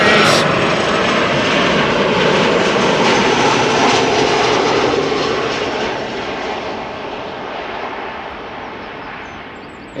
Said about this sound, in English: a quick peek of the Ryanair touching down